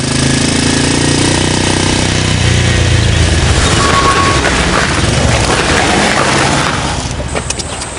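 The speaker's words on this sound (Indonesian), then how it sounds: "Di saat cerah paling asik memang naik motor." A motorcycle engine runs steadily on a sunny ride, a loud, close, rough mid-pitched drone that holds for several seconds before easing slightly at the end.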